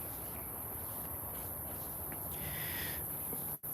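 Crickets chirp steadily through the night in a garden, a continuous high-pitched trill that carries on without pause, with faint rustling in the background.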